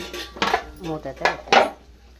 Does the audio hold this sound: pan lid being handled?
yes